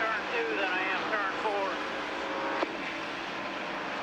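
NASCAR Xfinity race car engine at Homestead-Miami Speedway in 1997, a steady distant roaring drone that holds level throughout, with a commentator talking over it.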